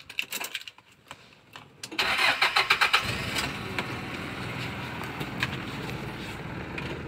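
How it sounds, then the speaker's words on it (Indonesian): A jeep engine cranks with a rapid rhythmic churn, catches after a few seconds, and settles into a steady nearby idle, preceded by a few light clicks and key rattles. "mobil jeep kita dengerin mesinnya"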